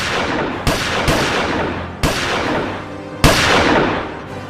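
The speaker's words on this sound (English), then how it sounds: "A hail of gunfire hit the two agents and they crumpled to the floor." Gunfire sound effect in a dramatized 1920 Bloody Sunday shooting of two agents: four or five heavy booming shots spaced about a second apart, each with a long rumbling echo, loud and without voices.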